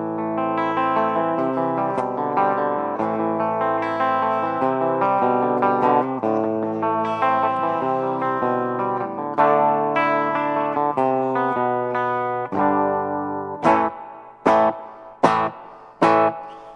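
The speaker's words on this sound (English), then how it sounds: "it has a very realistic spring reverb sound, just like you hear in an amp" Electric guitar chords and melody ringing through an Electro-Harmonix Holy Grail reverb pedal on its spring setting, with a splashy, drippy tail; near the end, sharp single strums bounce and decay in the springs.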